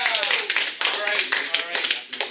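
Audience at a live comedy show clapping with fingers as a warm-up, a quick irregular run of light, sharp taps spread through the clip, with a voice talking over it.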